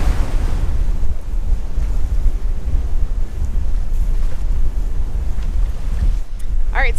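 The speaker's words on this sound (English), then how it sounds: "we can see breaking waves, like big surfing breaking waves" Big ocean surf waves breaking in the distance, heard from a sailboat as a steady, loud roar mixed with heavy wind buffeting the microphone.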